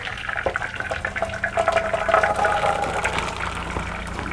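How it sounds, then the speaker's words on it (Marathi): Cooked dal is poured into a sieve and the water drains through it with a continuous splashing, trickling flow that rises and falls, close and fairly loud, with no voices. "आता आपण ह्याच्यामध्ये हे डाळ काढून ह्याच्यात घालायचं आहे म्हणजे पाणी छान असं सगळं वितळून जाते."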